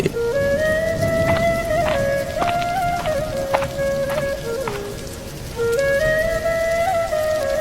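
Steady rain falls as a constant broadband hiss in a cartoon scene, with a sustained whistling tone and a few sharp taps over it.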